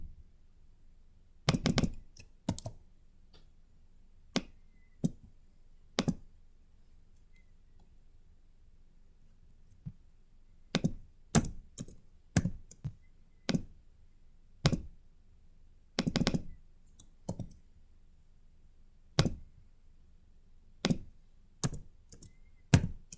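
Computer keyboard typing, with irregular bursts of clicking keys and short pauses between them, close and fairly quiet with no talking.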